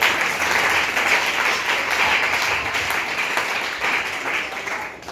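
A church congregation breaks into sustained applause to acclaim the Lord, dense, loud clapping that holds steady for several seconds and thins slightly near the end.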